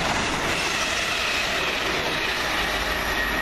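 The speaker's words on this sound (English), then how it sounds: "London Midland service from Birmingham New Street to London Euston." A London Midland passenger service from Birmingham New Street to London Euston rushes past at Lea Hall station, a loud, steady roar of wheels and rails with faint clicking and a thin squeal above it.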